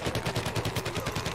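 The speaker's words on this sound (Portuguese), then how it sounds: "alguém está me atirando" Rapid bursts of gunfire from the Plants vs Zombies Garden Warfare video game, a steady pulsing volley of shots that fills the whole moment at close range.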